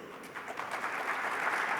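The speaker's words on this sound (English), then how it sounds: "That's worth applauding" Audience applause at a Lahore Literary Festival panel discussion, a soft, fairly distant wash of clapping that swells slightly over its short span.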